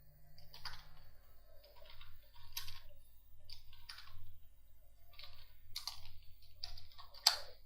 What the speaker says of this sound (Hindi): मैं हेडिंग टाइप कर रहा हूँ एक